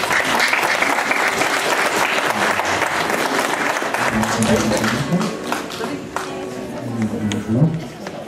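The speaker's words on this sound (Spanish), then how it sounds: "¿Dónde están esos aplausos?" Sustained applause from a wedding audience, dense clapping throughout with voices mixed in, tapering slightly toward the end.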